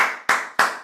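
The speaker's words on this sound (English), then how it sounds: "Let's give her a round of applause and welcome her to America." A few hand claps of a round of applause at a business networking meetup come as three crisp, evenly spaced slaps, close and fairly loud, with no talk.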